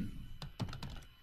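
Typing on a computer keyboard: a short burst of several close, soft key clicks in an uneven rhythm over a quiet room hum.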